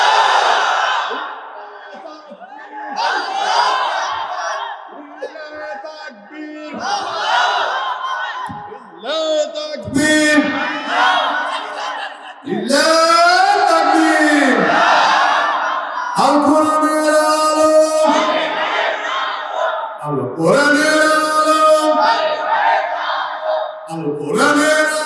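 A large gathering of young men at an outdoor religious sermon in Meherpur, Bangladesh, roaring Allahu Akbar back in answer to a takbir call, several loud chanted waves of massed voices, close and dense, with shouted lines between them.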